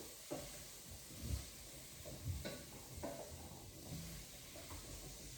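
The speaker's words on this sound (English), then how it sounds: "So we're going to just stir them like this. Stir them away for a minute or two." Vegetables stirred in a pan on a stove ring for brown stew, with soft, faint scraping strokes recurring about once a second over a low background sizzle.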